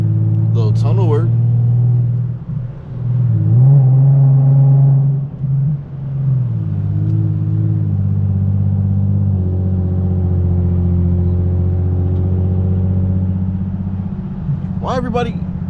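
An Infiniti G37 engine with Vibrant exhaust resonators and a stock engine hums steadily with low rumble as it drives, rising briefly in a rev, with a voice talking over it now and then.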